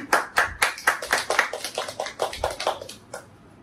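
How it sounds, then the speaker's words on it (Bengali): A small group claps for a child at a home birthday gift opening, a brisk burst of close handclaps lasting about three seconds before tapering off. "তো সবাই আনিশার জন্য হাততালি।"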